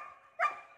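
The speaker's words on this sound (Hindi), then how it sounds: "वो बस मेरी तरफ ही देख के भौंकने लगा" A dog lets out a single short, sharp bark, close and moderately loud against a faint steady hum.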